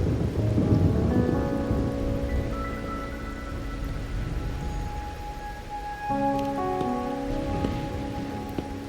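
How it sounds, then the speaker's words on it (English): Steady rain with rolling thunder in the video game Wuthering Waves, a continuous hiss of rainfall under low rumbles, with faint tonal ambient music threaded through, and no talking. "are you simply passing the time until the rain ends?"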